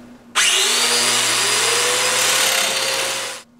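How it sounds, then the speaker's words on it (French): A power drill bores domino holes into wood pieces, a single loud, steady whirring burst of a few seconds that starts abruptly and winds down at the end, close up. "Puis, je les perce."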